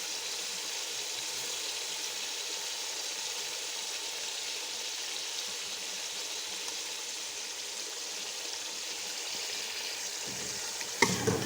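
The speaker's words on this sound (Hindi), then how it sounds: "अब मैं डालूंगी इसमें अपना चिकन, इसे अच्छी तरह से भून लेंगे हम।" Chicken sizzles steadily in a pan for Hyderabadi haleem, a continuous close frying hiss with faint stirring and a few clinks near the end.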